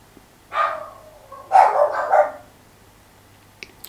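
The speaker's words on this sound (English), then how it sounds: "that's my dog's barking." A pet dog barks nearby, one sharp bark followed a moment later by a quick burst of two or three more, then quiet, with no one speaking.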